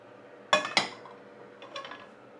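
Two sharp metallic clinks of frying pans being handled in a home kitchen while cooking an Indian beef dopiaza curry, a quick close pair followed by softer rattling a moment later.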